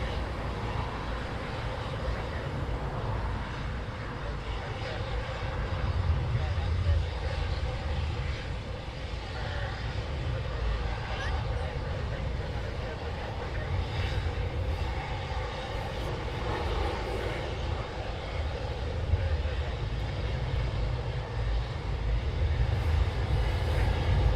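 Military jets departing RAF Coningsby during a NATO exercise, a sustained rumbling roar of aircraft engines that swells and holds throughout, heard from a distance with no talking.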